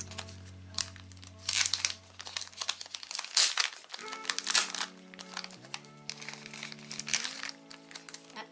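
Plastic packaging crinkling and crackling up close as stickers are unpacked, irregular rustles and crunches over a low steady hum that shifts in pitch partway through.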